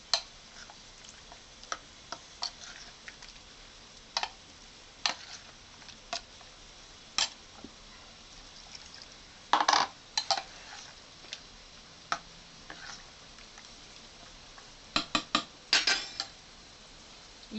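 A spoon or spatula knocks and scrapes against a pan while silver fish curry ingredients are stirred together, giving sparse metallic clinks and ticks at irregular intervals, clustering into quick bursts near the end, fairly quiet with no talking.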